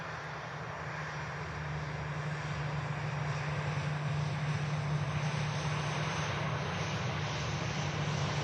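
A KLM Airbus A321neo airliner with a white nose roars steadily at an airport. The jet noise is continuous and even, slowly growing a little louder, with no voices.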